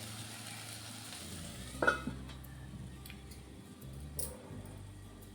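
Masala frying in oil in a pan for Telugu-style rajma curry, a steady close sizzle with a few sharp clinks of a spoon stirring partway through, no voices.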